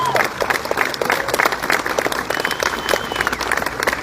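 A crowd at an outdoor charity walk claps and cheers in a dense, steady burst of applause, moderately close, with no speech over it.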